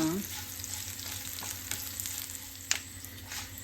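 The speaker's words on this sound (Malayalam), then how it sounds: "കറിവേപ്പില ഇടാം കറിവേപ്പില ഇത്തിരി കൂടുതൽ ഇടാൻ നല്ല ടേസ്റ്റാകും പച്ചമുളക് നോക്കണ വരെ നമുക്ക് ഇളക്കാം" Curry leaves and green chilies frying in oil while being stirred for a poha mixture, a quiet continuous sizzle with occasional soft clinks and scrapes of a spoon against the pan.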